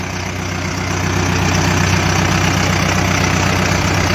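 A Mahindra Arjun 605 tractor engine runs steadily in second gear at a low rumbling pitch, loud and close, rising slightly after the first second and holding even.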